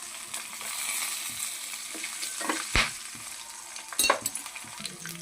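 Green and dried red chillies fry in hot oil in a pan while pongal is cooked, giving a steady soft sizzle with a few sharper crackles and stirring clinks.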